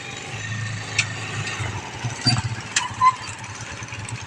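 A motorcycle engine runs steadily outdoors at low idle, a continuous rumble with a few brief sharper bursts and clicks over background noise.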